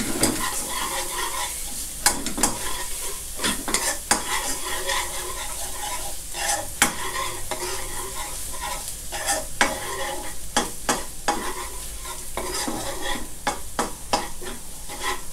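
Chinese garlic stir-fried with a ladle in a hot pan: steady loud sizzling with rapid, repeated metal scrapes and clacks of the ladle throughout, close up and without voices.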